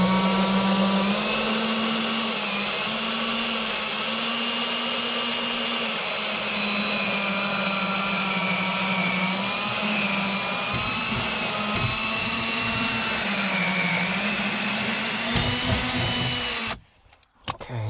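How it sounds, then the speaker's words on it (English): A power drill bores a small hole into the interior trim of a Mk4 Volkswagen GTI, giving a steady, close, loud whine whose pitch rises and falls slightly through a long run, then cuts off abruptly near the end. "I'm just going to drill a small hole right there."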